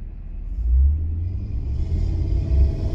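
A Jeep Grand Cherokee WJ with a 4.7 V8 drives along, giving a steady, fairly loud low engine rumble that swells slightly at moments, with no talking.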